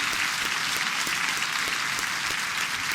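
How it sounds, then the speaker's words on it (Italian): Sustained, dense applause fills a theatre hall after a stage performance, an even wall of many hands clapping with no break for the whole stretch. "un applauso veramente di cuore lo merita il nostro amico Tommaso Donnarumma"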